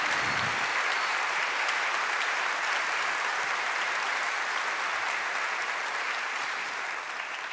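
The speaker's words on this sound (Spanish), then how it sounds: "Así que quiero un aplauso enorme para León y para Gustavo, porque son..." Sustained, dense applause from a large audience at a concert celebrating an album, filling the whole stretch at steady volume and tapering only slightly near the end.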